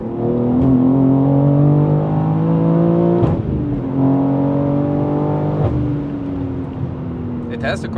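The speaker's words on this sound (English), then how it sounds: "Okay, let's floor it." A BMW M3 G80 with a manual gearbox accelerates hard at full throttle on a road. The engine note climbs steadily, with two quick gear shifts that each briefly drop the pitch before it rises again.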